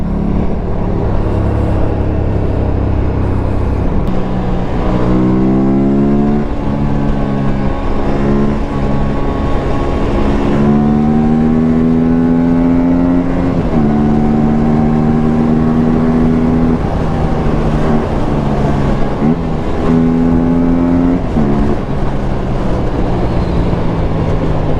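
An Aprilia RS457 motorcycle being ridden on a farm, its engine loud and close, pitch climbing and falling through repeated revs and gear changes over a constant roaring drone.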